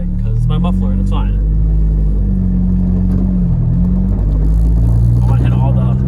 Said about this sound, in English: disregard the sound of metal dragging because it's my muffler and it's fine